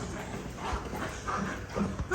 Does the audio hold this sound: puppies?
yes